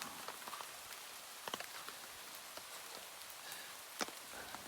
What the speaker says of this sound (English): the rain's set in for tonight.